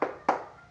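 Two sharp hand claps about a quarter second apart, close and fairly loud, from a clapped cheer called tepuk semangat led for a group, each clap decaying quickly into a quiet room.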